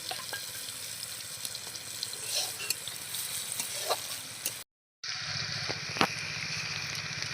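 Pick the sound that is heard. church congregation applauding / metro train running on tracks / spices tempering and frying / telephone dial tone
spices tempering and frying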